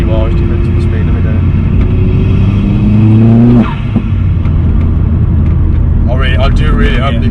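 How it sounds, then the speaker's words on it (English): An Opel Astra VXR engine with a stage 3 hybrid turbo revs and holds a steady drone with a rising turbo whine, then eases off; a voice speaks briefly near the end. "I do really hope you can hear that turbo noise"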